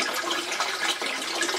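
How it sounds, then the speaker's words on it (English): Garden hose tap water gushes into a 125 gallon cichlid aquarium, a loud, continuous rushing and splashing pour heard up close without talk. "the water coming from the garden hose, it's coming in through here, it's getting blocked right here, and it's gonna be going shooting into the tank"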